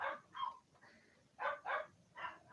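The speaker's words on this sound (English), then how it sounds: "Sorry about my dogs." Several dogs bark outdoors in short, uneven bursts, a few sharp barks separated by brief pauses, moderately close and with no talk over them.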